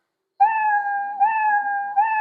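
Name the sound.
cartoon cat meow sound effect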